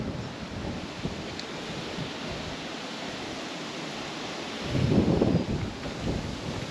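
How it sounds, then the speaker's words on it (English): Wind buffets the microphone at a coastal lookout as a steady broadband rush, swelling into a louder gust near the end, with no voices heard. "Sorry about the wind"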